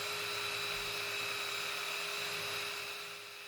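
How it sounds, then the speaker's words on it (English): Belt sander sanding wood during a camper van build, a steady high whining motor with a constant tonal hum and abrasive hiss, fairly close, winding down slightly at the end. "that belt sander there of Andrew's sure does make short work of a big sanding chore"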